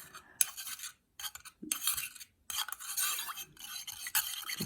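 Homemade toner lotion being stirred in a bowl with a spoon gives quick, bright swishing and clinking bursts separated by short silences, close and fairly quiet.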